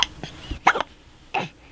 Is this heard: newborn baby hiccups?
yes